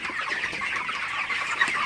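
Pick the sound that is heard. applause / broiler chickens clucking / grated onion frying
broiler chickens clucking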